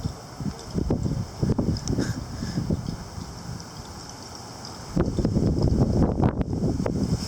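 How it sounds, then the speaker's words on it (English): Gusty wind around power lines before a storm, a steady breathy rush with a faint high whistle, swelling louder in the second half with buffeting on the microphone, no voices. "It's a whistling, howling in the wind in the power lines."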